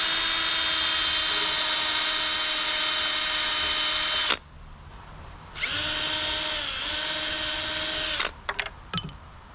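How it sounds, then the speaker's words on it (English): A power drill whines loudly and steadily for about four seconds drilling into the end of a wooden dowel, stops, then runs again for a shorter burst, followed by a few faint clicks. "We want to drill a hole in each end."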